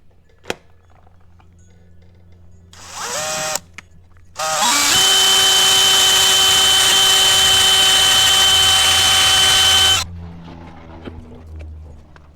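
A drill bores holes into a gearbox main shaft during a reverse gear install, with a short spin-up followed by a loud, sustained high whine lasting about six seconds before cutting off.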